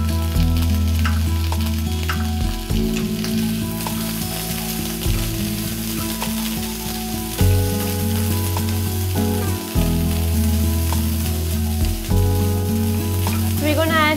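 Corn tipped into translucent onions frying in a pan, giving a steady sizzle under continuous background music with shifting chords.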